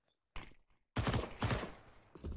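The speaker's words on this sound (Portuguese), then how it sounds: "Dois vivos apenas, troca tiros." Rapid bursts of gunfire ring out in a Counter-Strike: Global Offensive match, several loud volleys separated by brief silences, with sharp repeated shots overlapping in quick succession.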